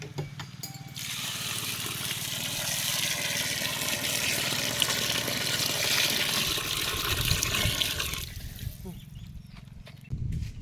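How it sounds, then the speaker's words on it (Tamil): Water pours steadily into a cooking pot of chicken biryani for several seconds, a broad splashing rush that stops near the end, with faint clinks afterward. "பிரியாணி தேவையான தண்ணி ஊத்திக்கிறோம்."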